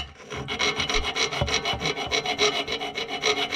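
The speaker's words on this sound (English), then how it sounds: "slowly filed that away until this brake line connector fit in there just right" A tapered hand file rasps back and forth along the edge of a metal strut on a 2012 Nissan Sentra, a close, rhythmic series of about a dozen even scraping strokes with no voices.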